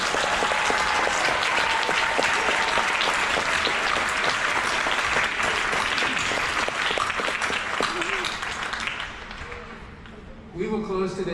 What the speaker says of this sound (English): Let's give these young men and women another round of applause.